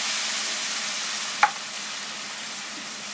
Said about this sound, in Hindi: पेस्ट को हम बिस्मिल्लाह करके इसमें डालेंगे